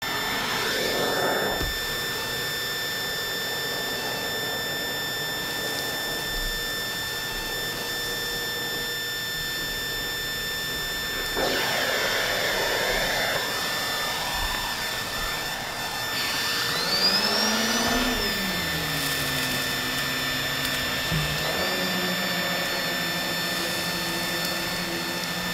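A Numatic Henry HVR-160 canister vacuum cleaner runs continuously on carpet with a high whining drone, its pitch and airflow shifting as the nozzle moves and sucks up cat litter, flour, pet hair and cereal.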